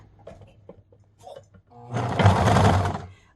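An electric sewing machine stitches purple fabric for a fringe, running in one steady whirring burst of about a second after a few light clicks and soft handling noises, close and loud.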